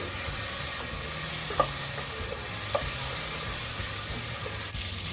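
Tomato sautéing in a pan for pork sinigang, a steady, moderate sizzle with a couple of faint utensil clinks, heard close with no voices.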